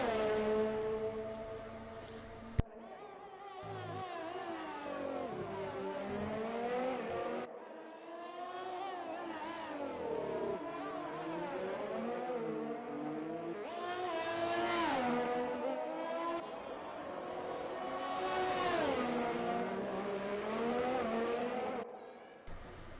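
Race car engine from an F1 video game on a qualifying lap at the Azerbaijan Grand Prix, with a loud, continuous high-pitched whine that rises and falls through gear shifts and revs for the whole stretch.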